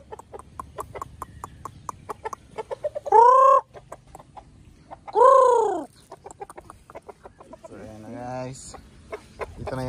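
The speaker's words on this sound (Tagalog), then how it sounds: "Yan po yung ating mga alagang manok guys." Chickens cluck repeatedly in short rapid bursts nearby, with a couple of louder drawn-out squawks mixed in.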